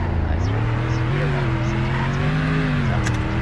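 A 2019 Lamborghini Urus engine at full throttle, a loud sustained drone rising steadily in pitch as the SUV accelerates hard.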